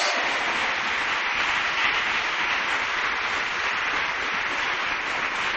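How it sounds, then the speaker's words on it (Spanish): A congregation claps steadily during a Torah portion study service, forming a dense, even wash of many hands that holds at the same loudness throughout with no pauses. "no dejes de aplaudir, no dejes de aplaudir"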